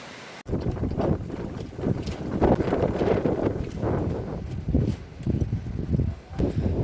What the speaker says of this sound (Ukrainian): Сьогодні такий ураган, такий вітер.